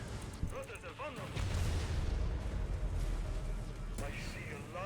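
A nuclear missile strike detonates in the mobile strategy game C&C Rivals, a broad, sustained low rumbling blast that swells after a brief lead-in and rolls on loudly for several seconds, with game voice announcements over it.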